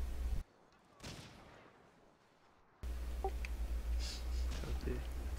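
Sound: gunfire in video game Hidden and Dangerous 2

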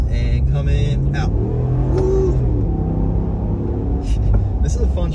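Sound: RAM Limited Longhorn pickup truck driving through curves

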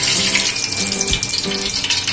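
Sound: coconut oil poured into the hot pan

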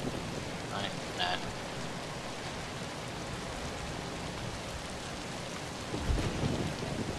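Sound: rain and thunder in the video game Zombi

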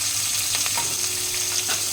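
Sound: green chilies added to hot oil with fenugreek and asafoetida, sizzling

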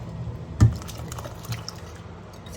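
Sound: pouring pounded crab juice into Thai gaeng liang curry

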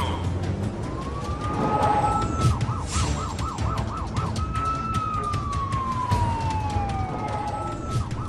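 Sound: ambulance siren in traffic

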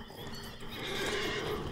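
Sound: horse neighing in Lord of the Rings Online video game

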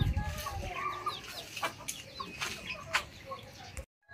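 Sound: hens clucking

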